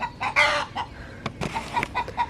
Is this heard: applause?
no